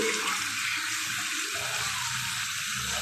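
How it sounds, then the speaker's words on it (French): Running water splashes steadily as a face is rinsed. The sound is a close, loud and continuous rush like a tap running into a sink, with no talking. "Donc je vais bien rincer mon visage comme ça avec l'eau."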